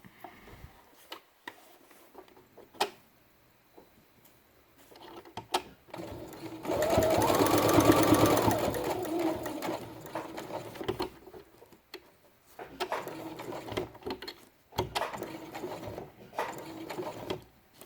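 A sewing machine stitches a fabric quiet book page, running in a steady close whir for a few seconds in the middle, with faint clicks and fabric handling before and after.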